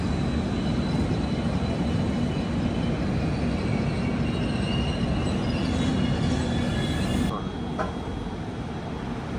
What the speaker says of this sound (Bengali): আমাদের ট্রেন এই মুহূর্তে পৌঁছে গিয়েছে আসামের নর্থ লখিমপুর